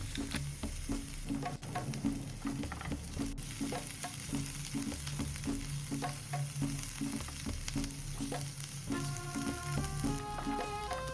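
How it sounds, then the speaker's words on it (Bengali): Onion, green chili, ginger and garlic stir-fry in oil in a pan, making a dense steady sizzle with a regular rhythm of scraping stirs, loud and close, with no talk. "তেল ফ্রাই প্যানের মধ্যে নিয়ে একটা স্টিয়ার ফ্রাই করব। প্রথমে পেঁয়াজ তারপর কাঁচা লঙ্কা তারপর আদা একদম লাস্টে আসবে রসুন"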